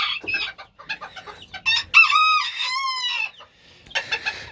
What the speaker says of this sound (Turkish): Ben bu horoza aşık oldum ya.